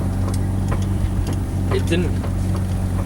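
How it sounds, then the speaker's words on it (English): A Mazda RX-7 FD3S rotary engine idles steadily with a freshly installed downpipe, a low continuous rumble running under a voice. "The car sounds nicer. And it feels like it's idling slightly better."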